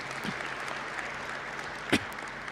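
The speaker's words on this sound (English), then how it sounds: "Let's give them a round of applause for a wonderful message tonight" Applause at a graduation ceremony, heard as a faint, thin patter of scattered clapping from a distant audience with one sharper clap near the end.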